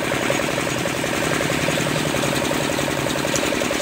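A diesel shallow irrigation pump engine runs close and loud in a mustard field, with a steady, rapidly pulsing throb and no talk over it.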